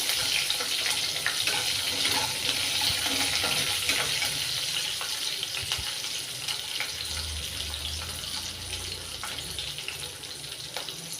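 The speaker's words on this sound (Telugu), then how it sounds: "పచ్చిమిర్చి వేగిన తర్వాత ఎండుమిర్చి వేసుకోవాలి కొంచెంసేపు బాగా వేగాలి" Green chillies and dried red chillies fry in oil in a pan, a steady loud hiss and crackle with scattered pops running throughout without talk.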